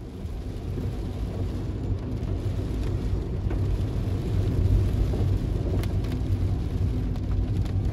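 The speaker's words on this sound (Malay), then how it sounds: "Hujan lebat." Heavy rain pours steadily around a car stuck in Shah Alam traffic, a dense continuous hiss with a low rumble beneath, loud and unbroken throughout.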